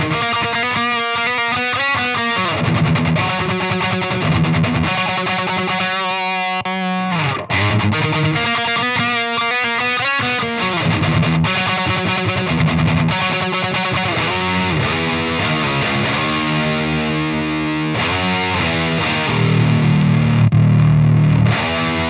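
Heavily distorted metal guitar played through a KSR Orthos amplifier, chugging riffs and sustained chords ringing loud and continuous with no voices over it.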